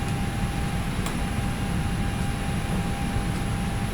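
Steady low hum of an Airbus A320 auxiliary power unit running in Flight Simulator X, a constant droning whine with a faint high tone, continuous and even throughout with no talking.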